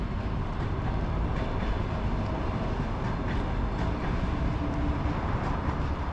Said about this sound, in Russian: Поезд, видите, пошел.